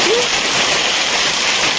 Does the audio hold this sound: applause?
no